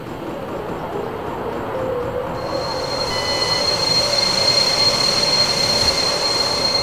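Electric locomotive in the Train Simulator 2014 game as the throttle is notched up, a steady rising rumble of traction motors with a thin whine that climbs and shifts tone partway through.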